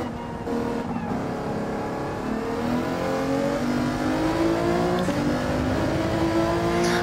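An Alfa Romeo 155 race car engine in Gran Turismo 7 revs steadily and loudly throughout, its rising and falling harmonic tones sustained without pause, with no talking over it.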